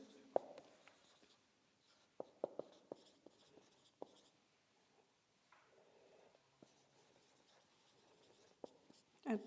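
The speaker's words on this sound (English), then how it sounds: "Let me write this definition." Chalk taps and scratches on a board during a science class, coming in short irregular bursts of strokes with quiet pauses between, close and fairly faint.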